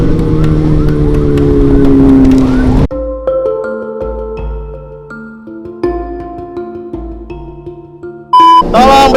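Ambulance caught in traffic behind an escorting motorbike, its siren wailing amid car engines and road noise, then cutting into short honks and bursts as vehicles pass, with a revving motorcycle close by.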